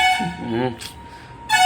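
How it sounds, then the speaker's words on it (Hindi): A bus horn blares in two long honks, one at the start and one at the end, with a voice speaking briefly in between. "बस की आवाज़ आती है हॉर्न की।"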